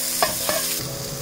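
Onions gone pink and translucent fry in a pan for Thai yellow curry, a quiet steady sizzle broken by two quick scrapes of stirring, close and brief.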